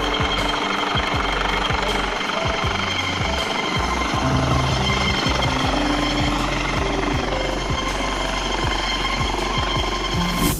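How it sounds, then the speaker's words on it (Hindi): A helicopter landing in dust: its rotor chops rapidly and loudly over a dense roar of wind and engine noise, steady and close throughout. "देखिए ये हेलीकॉप्टर किस तरह धूल के गुबार में समा गया।"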